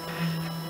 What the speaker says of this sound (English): My printer's sort of wheezing away there.